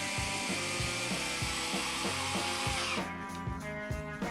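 A Fanttik NEX L1 Pro electric screwdriver drives a 1.25 inch screw into wood with a rhythmic, ratcheting whir that pulses steadily, then shifts to a lighter, smoother spin near the end.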